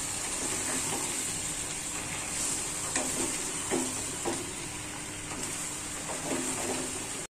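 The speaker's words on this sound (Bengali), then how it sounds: "এখন ভালো মতো একটু নাড়াচাড়া দেব, জানি লবণটা আর হলুদটা মিশে যায় বেগুনের সাথে।" Eggplant pieces being stirred in a pan with salt and turmeric, a soft steady sizzle with light scraping strokes of the spoon at irregular intervals, fairly quiet and without talk.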